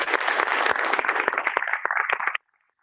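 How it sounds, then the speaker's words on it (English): Brief, fairly loud round of applause at a school board of education meeting, dense clapping that cuts off abruptly after about two seconds into near silence. "If we could give them a round of applause."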